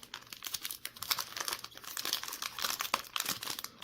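A One Piece Romance Dawn OP-01 booster pack wrapper being opened, giving dense, crinkly plastic rustling and tearing in close, uneven bursts with no voices.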